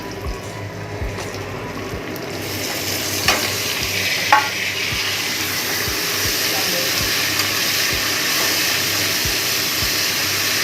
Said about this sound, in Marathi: आता पुढची प्रोसेस चालू आहे सांबारची. त्याला तर टॅमॅटो टाकते.